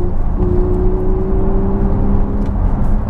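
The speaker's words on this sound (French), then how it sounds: "là je vais accélérer, je vais me mettre en Sport Plus" A Porsche 911 Targa 4S with a naturally aspirated engine accelerates in Sport Plus mode, a loud close engine drone rising steadily in pitch for a few seconds beneath road noise.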